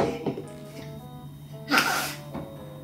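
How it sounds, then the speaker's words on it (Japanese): A newborn baby burps once after a milk feeding during a late-night feed at home: a single short, soft burst midway through, close but quiet over a low steady background hum. "今のゲップ？ ゲップだったね"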